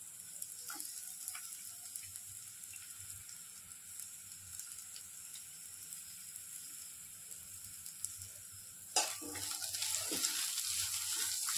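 Onion is frying in a pan with kantoli (spiny gourd) vegetable, giving a quiet, steady sizzle with a few faint ticks, then a louder burst of crackling near the end as the onion goes in.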